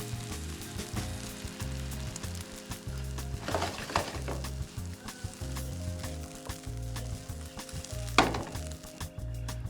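Diced pancetta sizzles and fries in a hot pan with farro, a steady close crackle overlaid by rhythmic low thumps and occasional stirring scrapes of a utensil against the pan.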